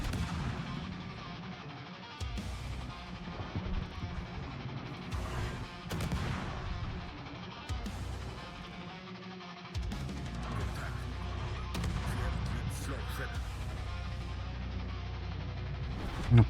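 Repeated heavy booming gunfire from ship cannons in World of Warships, loud and continuous, with dense explosions and rumbling over sustained background noise.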